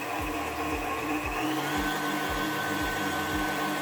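An electric mixer runs steadily through banana cake batter with a loud, continuous motor whir, and a rhythmic low thumping pulses underneath as the beaters turn. No one speaks.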